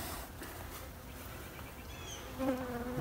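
Dense, steady buzzing of many honeybees from a hive in a house attic, a close continuous drone that swells slightly toward the end, with no talking.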